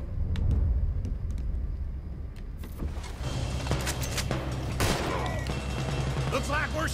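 Gunfire in Red Dead Redemption 2, with sharp sparse shots first and then a heavier clatter of shots over a rumbling background, with voices now and then.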